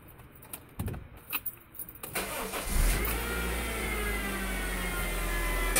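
A 2000 Honda CR-V cranks briefly and catches, then settles into a steady, loud idle with a thin whine running over the engine, after some clattering and handling noises beforehand.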